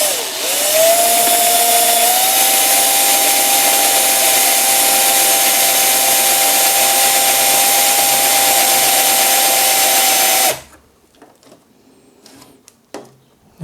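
A power drill bores a hole during an improvised workshop installation, its loud, continuous motor whine rising slightly in pitch and holding steady for about ten seconds before stopping, with faint clatter afterward.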